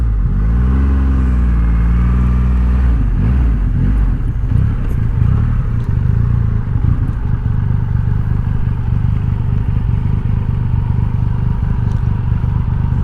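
A Triumph Rocket III performance cruiser motorcycle rumbles loudly and steadily while being ridden on the road, with a deep engine drone and a brief rise in revs early on, heard alone without talk.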